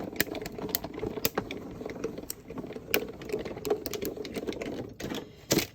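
A Gemini Mini die cutting machine runs paper through its rollers, giving a steady close mechanical whir broken by sharp clicks and clacks across several seconds, with no talk.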